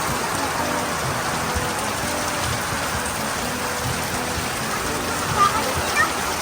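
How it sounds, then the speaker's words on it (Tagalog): Heavy rain pours down in a steady, dense roar of drops on surfaces, loud and continuous, with a couple of brief louder knocks near the end. "Lakas ng ulan kay Ilocano."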